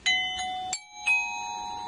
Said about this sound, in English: when you hear this chime